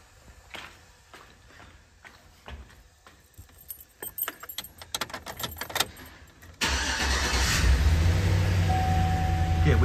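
A GM LS V8 engine, being checked for a hard-to-find knock, is cranked after some keys jangling and clicks, then catches and settles into a loud, steady idle close by.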